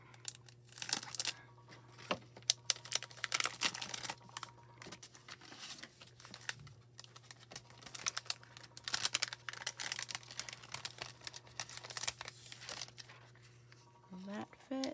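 Sheets of foil are handled and crinkled while preparing to foil through stencils, making close, irregular crackles and rustles over a faint steady hum.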